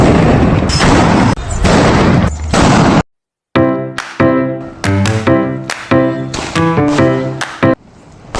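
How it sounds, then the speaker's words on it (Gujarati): Firecrackers burst at a Dev Diwali celebration, a loud close crackling volley followed by a series of sharp booming bangs with short gaps. "પછી તો મિત્રો સ્ટોલે આવીને ફોડી લીધા ફટાકડા 4-5 કિલો."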